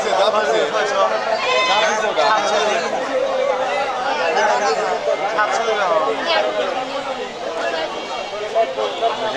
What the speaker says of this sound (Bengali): দেখেন এটা ব্ল্যাক বেঙ্গল জাতের ছাগল দেখেন